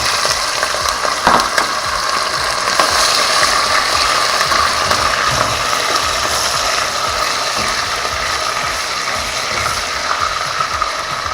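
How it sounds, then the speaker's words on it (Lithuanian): Meat sizzles in hot oil for Uzbek plov with raisins, a dense, steady crackling hiss that runs without a break throughout, close and fairly loud, with faint occasional clicks and no talking. "Mėsą turi kepti ant karšto aliejaus, nevirti, metam mėsą."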